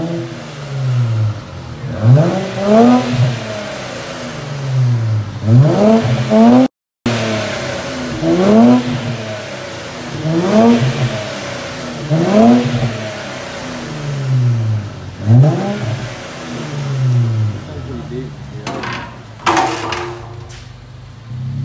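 A loud, raspy Infiniti Q50S 3.0T engine with a muffler delete and straight pipe revs repeatedly, rising and falling in a steady rhythm of throttle blips, harsh and unmuffled, close by.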